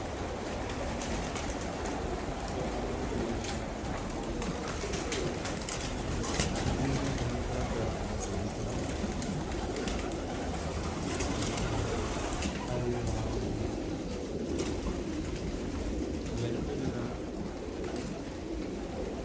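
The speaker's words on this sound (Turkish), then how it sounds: "Burada bolca posta güvercinleri var." Homing pigeons coo throughout a crowded coop, a dense and continuous murmur of many birds with flutters and scratches mixed in, heard from close by.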